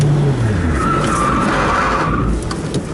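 Tires of a Lotus on a driving-academy track squeal loudly in a power slide, a sustained high screech over the car's engine, fading near the end.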